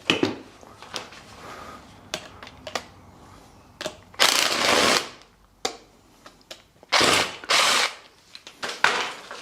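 Power drill backing out a pair of screws from a Land Rover Defender seat headrest during a retrim, with several loud whirring bursts of a few seconds each between short clicks and handling noises.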